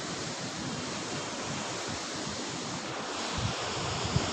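Water at Pahachi Galu Duduma waterfall rushes in a dense, continuous loud roar, steady throughout with no voices.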